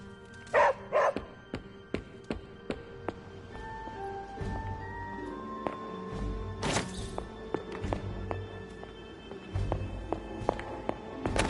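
A puppy named Charlie in Marvel's Midnight Suns gives a string of short, sharp barks and yips. They come in bursts over soft footsteps and background game sounds.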